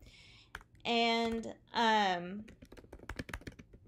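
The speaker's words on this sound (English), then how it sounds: "I'm just going to type in something really quick so I can show you an example." Quick, light keyboard typing clicks in a rapid irregular run follow a short stretch of speech.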